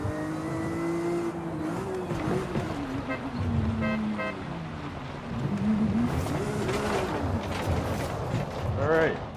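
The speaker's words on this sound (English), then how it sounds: "there it is, the Porsche GT3" A Porsche GT3 RS sports car driving on a track, its engine revving and climbing in pitch through gear changes with rising and falling whine, heard from the cabin with voices talking over it.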